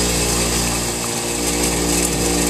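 A grinder runs steadily on metal while a snowblower shear pin is shaped, giving a continuous loud, close whine that holds even throughout, with no talking.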